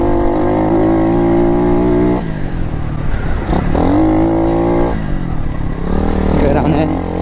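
Pit bike engine revving hard while riding fast through dirt, a loud, close, continuous buzzing drone that rises and falls with throttle changes throughout.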